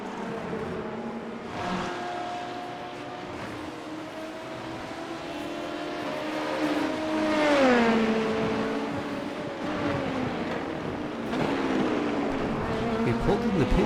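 An LMP2 prototype race car in iRacing's IMSA series howls through rising and falling revs, with sweeping gear changes and a loud surge midway, while someone talks over the engine.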